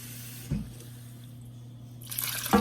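Cold water begins pouring into a soup pot of vegetables with a soft splash, then rushes in louder near the end, close by over a low steady hum.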